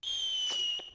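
A single missile-style firework bursts with a sharp crackle over a steady high-pitched whistle that runs through the whole second, close and fairly loud.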